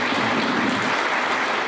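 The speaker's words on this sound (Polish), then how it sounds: "Bardzo głośne brawa." Loud, dense clapping from an audience at a Nativity play gathering, a continuous wash of applause with no break.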